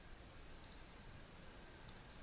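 Faint computer keyboard keys tapped during 3D modeling work, two soft clicks close together and then a single one, over quiet room hiss.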